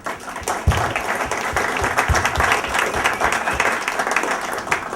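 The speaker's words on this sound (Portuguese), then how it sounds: "Uma salva de palmas para..." Audience at a digital-media talk on WordPress claps loudly, irregular individual claps building into sustained applause with a few voices underneath.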